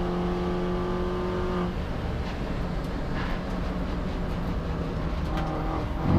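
A Mini Cooper S race car drives hard at Silverstone during a Mini Challenge race, the engine droning loudly from inside the cockpit, its pitch holding, then shifting as it accelerates past a rival.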